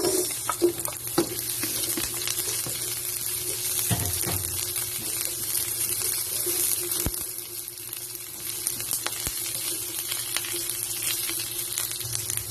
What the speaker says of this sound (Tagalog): Isusunod na po natin ang ating sibuyas.